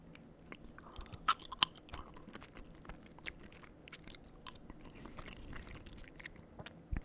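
Close, crisp chewing and biting of a favorite, pricey food, heard as irregular crunchy bites and soft mouth sounds with no talking, in a quiet whispered-ASMR eating setting.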